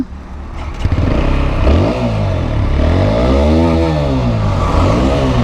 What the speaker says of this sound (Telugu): డబుల్ బ్యారెల్ సైలెన్సర్ సౌండ్ అయితే చాలా బాగుంది